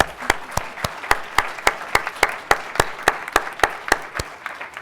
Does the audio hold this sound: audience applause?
yes